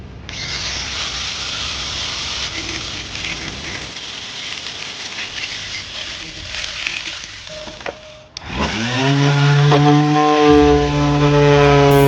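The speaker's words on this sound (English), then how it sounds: "Give it a grinder." An angle grinder runs on a homemade gold motion table build, a broadband gritty rubbing whir that steadies, then spins up to a louder, higher-pitched whine partway through, close and continuous with no talk.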